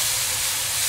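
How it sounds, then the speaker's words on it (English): Mushrooms fry in a frying pan for a quiche, giving a steady, loud, close sizzle and hiss with no talk over it. "So we just want to brown the mushrooms."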